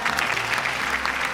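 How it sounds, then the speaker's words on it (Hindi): Steady applause from an audience at an annual award show honoring an award winner, dense continuous clapping filling the moment with no breaks. "A huge round of applause, ladies and gentlemen."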